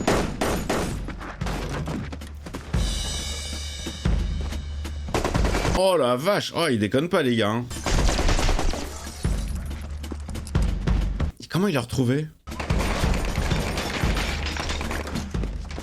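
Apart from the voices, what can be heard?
multiple gunshots in TV series Fargo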